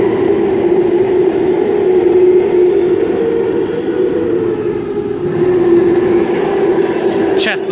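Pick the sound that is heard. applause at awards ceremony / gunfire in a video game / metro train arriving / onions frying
metro train arriving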